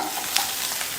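Shallots, garlic, ginger and grated coconut sauté in hot oil for a road-side style salna, giving a steady, close broadband sizzle with a faint stir partway through.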